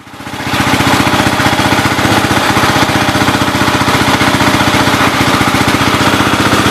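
An old tractor engine running steadily, close and loud with a fast, even chugging rhythm that holds throughout after a quick rise at the start.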